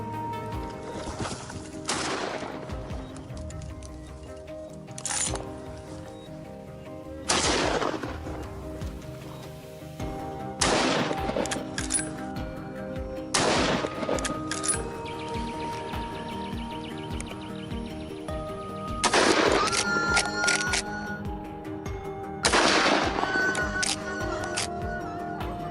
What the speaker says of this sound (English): a gunshot rang out, neutralizing the threat in an instant